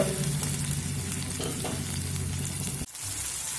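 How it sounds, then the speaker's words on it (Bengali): Onions sizzle steadily in oil over a low flame with a spatula stirring now and then, a continuous close frying hiss that briefly drops out near the end. "দেখুন পেঁয়াজ দিয়ে আমি এক মিনিট লো ফ্লেমে ভেজে নিয়েছি"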